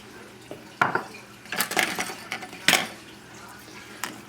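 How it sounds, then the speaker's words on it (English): Spoon stirring miso soup with gluten-free pasta and scallions in a pot, giving a few scattered clinks and scrapes against the metal, close and moderately quiet, with no talking. "just give it a stir, shut the flame off"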